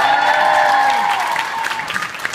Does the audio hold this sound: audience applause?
yes